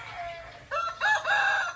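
Newly arrived Dekalb White layer hens in a layer building on a farm. Loud, close clucking and squawking calls come in short bursts over a low barn background.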